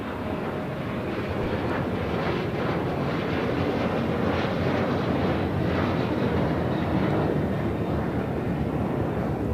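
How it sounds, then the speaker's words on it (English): A Delta Airlines Boeing 737-900ER takes off at LAX with a broad, sustained jet roar heard from some distance, steady throughout and without any talk. "This is Delta Airlines 1875 taking off to Los Cabos on a 737-900ER."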